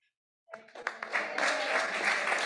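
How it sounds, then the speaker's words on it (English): A community meeting audience breaks into applause after a short silence. The clapping starts with a few scattered claps, then swells into steady, dense clapping from the room, with faint voices mixed in. "She can't hear you clapping,"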